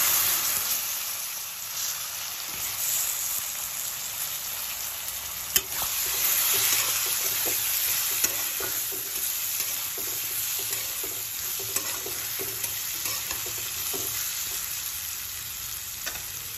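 Diced potatoes fry in a pan of hot oil with cumin, turmeric, chilli and garam masala, a steady close sizzle and hiss running throughout with occasional stirring clatter.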